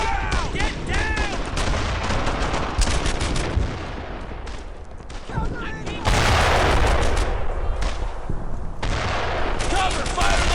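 Heavy gunfire in a World War II battle from Brothers in Arms: Earned in Blood, with dense rifle and machine gun volleys and booming blasts running throughout, loud and close, while soldiers shout over the shooting.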